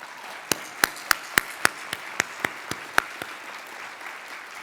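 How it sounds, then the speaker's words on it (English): Sparse applause for a filmmaking team at a policy foundation event: a dozen or so distinct, fairly loud claps from a few hands at an uneven rhythm over a soft background of quieter clapping. "Just one more round of applause for our filmmaking team."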